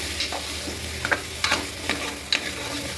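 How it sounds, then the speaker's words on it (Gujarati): Spice paste, tomatoes and garam masala being stirred in a pan of frying oil for vegetable pulao, several scraping strokes over a steady low sizzle, close and moderately loud with no talking. "હવે સારી રીતે આપણે મિક્સ કરી દઈશું।"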